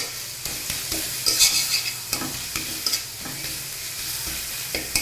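Red amaranth greens frying in a pan while being stirred, a steady close sizzle broken by repeated scraping clatters of a utensil against the pan, with no voices.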